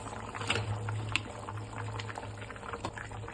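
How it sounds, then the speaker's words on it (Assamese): Water at a rolling boil in a pot for fish curry, a steady close bubbling and light patter with a low hum underneath, continuous and fairly quiet, no voices. "এয়া ভালকৈ উতল আহি গৈছে"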